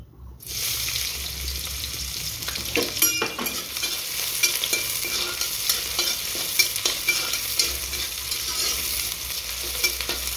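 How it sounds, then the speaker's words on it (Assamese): Ingredients drop into hot oil in a wok for kulti dal, setting off a steady, close sizzle and frying hiss with occasional stirring scrapes throughout. "তেল গরম হয়েছে এইখিনি দিম আগত বিলাহীখিনি পাছত দিম"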